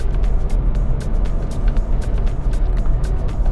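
Nissan Magnite compact SUV engine pulling steadily at around 81 km/h, a continuous loud low drone with road and wind noise and faint ticking, no pauses.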